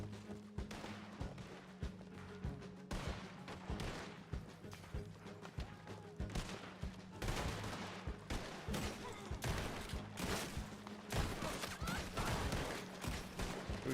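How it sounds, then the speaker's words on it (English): Video game gunfire: rapid bursts of repeated shots and impacts, some dense and clustered, others spaced apart, heard fairly close throughout with no talk. "Shot you in each shoulder."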